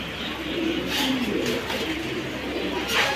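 Pigeons cooing amid steady background noise, soft low calls running throughout without pause.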